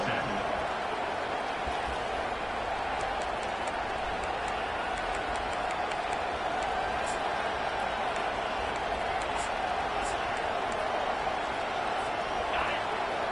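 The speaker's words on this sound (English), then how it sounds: "This crowd, full throat, splitting the eardrums" A roaring crowd fills a college football stadium at an NC State game, a dense, steady wall of noise that stays loud throughout with a broadcast commentator talking over it.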